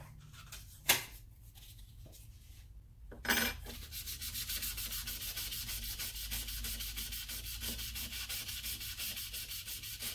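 Fine sandpaper rubbing sterling silver at a jeweller's bench: a close, steady, rapid back-and-forth scratching that runs continuously after a couple of brief knocks and scuffs at the start.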